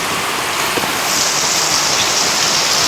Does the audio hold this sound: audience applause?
no